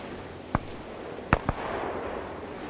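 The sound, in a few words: gunshots in a WW2 video game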